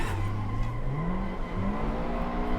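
Car engine revving steadily while drifting in the Assetto Corsa racing game, played with a steering wheel; one sustained engine drone rises and falls in pitch over about two and a half seconds, loud and with no talk.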